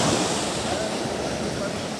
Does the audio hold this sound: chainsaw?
no